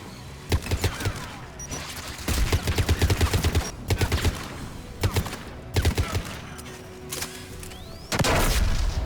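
Anti-aircraft guns firing ahead, loud rapid bursts of sharp cracks and booms in repeated volleys, with a continuous heavy barrage near the end.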